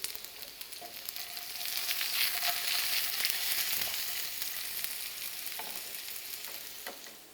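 Raw potatoes sauté in a pan, giving a steady, fairly loud sizzle that runs throughout, with a few faint scrapes and clinks as the pieces are turned.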